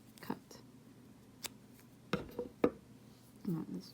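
Scissors snip through crochet yarn while a ladybug appliqué patch is being finished, giving a couple of soft, brief clicks against a quiet room with faint rustling.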